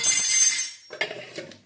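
A kitchen ladle drops with a bright metallic clink, a brief ringing clatter followed by a couple of smaller rattling knocks as it settles.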